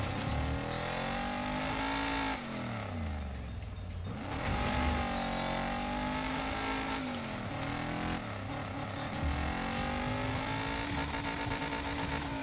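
A car in the racing video game Dirt 5 drives hard, its engine revving up and down in continuous sweeps with tire squeal and skidding, loud and steady throughout with no talk.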